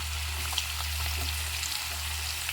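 Two onions frying in a pan for a prawn and brinjal curry make a steady, close, even sizzle with faint scattered crackles and a low hum beneath, and no one speaks.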